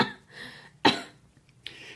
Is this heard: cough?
yes